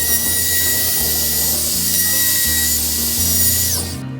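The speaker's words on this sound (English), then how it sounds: "It just takes a couple different settings on the router and just a very little bit of chisel work, and boy, it makes a nice looking cut there." A power router cutting wood for a rotating gazebo floor system, a loud, steady high-pitched whine that holds throughout and then winds down at the end, heard close with no talking.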